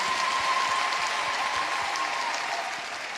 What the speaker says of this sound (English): Can you just help me to celebrate as we clap to Jesus?